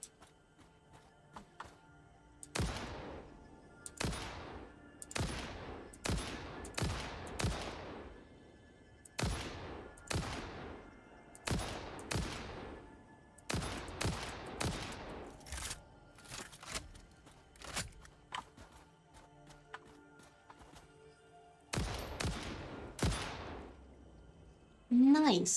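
A new gun firing at a creature in the video game Satisfactory: repeated sharp, punchy shots in short bursts and single cracks, separated by quiet gaps, moderately loud against a hushed background.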